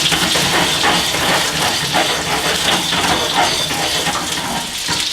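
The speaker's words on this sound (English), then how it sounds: "We're going to start shaking this pan around for about 4 to 5 minutes and get a really nice golden brown sear on each side of these" Baby red potatoes sautéing in a shaken pan give a loud, continuous sizzling hiss with a faint rolling rattle of the potatoes, close up and without speech.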